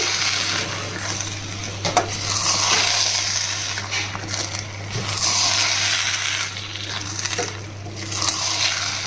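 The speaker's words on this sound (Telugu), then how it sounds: "ఇదంతా బాగా కలపాలి. ఫ్లేమ్ మాత్రం బాగా తగ్గించాలండి." A sweet pongal (chakkera pongali) mixture is stirred in a pot over a low flame, with steady scraping and clinking of the spoon against the metal and a faint sizzle underneath, and no talking.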